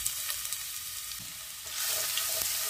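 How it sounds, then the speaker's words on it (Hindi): Steady, dense sizzling of coarsely crushed garlic frying in hot oil for radish sabzi, a bright crackling hiss with occasional pops, close and continuous with no voices. "लहसुन को भी फ्राई करेंगे हम"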